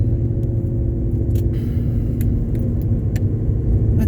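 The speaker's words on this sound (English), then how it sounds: "It's a Mustang." A Ford Mustang engine rumbles steadily from inside the car while driving, a loud constant low drone with faint rattles and ticks and no voices.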